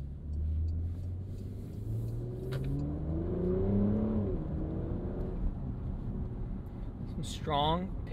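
A 2023 Porsche Macan S SUV pulls hard under acceleration, its engine note climbing steadily through rising harmonics in a sustained, close, in-cabin rumble, easing off near the end.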